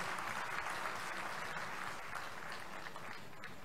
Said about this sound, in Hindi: सफाई मित्रों का तालियां बजा के पूरे प्रदेश में स्वागत कीजिए